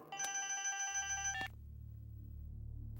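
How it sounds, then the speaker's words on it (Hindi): A telephone rings with a bright electronic tone, one burst of layered pitched ringing that cuts off abruptly, leaving a low steady hum behind; fairly quiet overall. "सर, आपके साले का फोन।"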